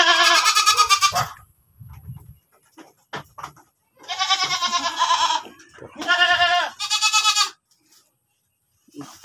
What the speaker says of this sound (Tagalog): tumatawag na yung mga kambing